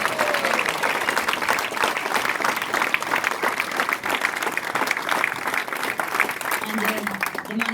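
An audience at a speedway meeting claps and cheers loudly and continuously, a dense wash of applause from a large crowd throughout.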